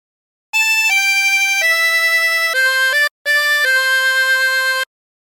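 A tremolo harmonica plays a short melodic phrase of the hymn There's a River of Life Flowing Out of Me, with sustained reedy notes, a brief break, then more held tones, played alone and clearly.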